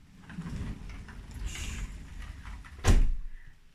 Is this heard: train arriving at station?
no